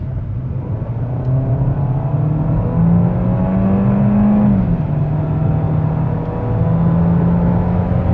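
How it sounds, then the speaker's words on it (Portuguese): A Citroën C4 Lounge 1.6 THP engine revs steadily close by through a curve, its pitch climbing and holding, then dipping briefly before building again as the car keeps accelerating. "vamos dar uma aceleradinha aqui numa curva para sentir um pouco mais sobre o grip desse carro"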